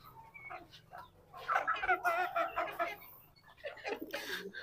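Chickens and chicks cluck and chatter at feeding time near an incubator setup, several birds calling in bursts close by at moderate volume, with a person speaking briefly among them.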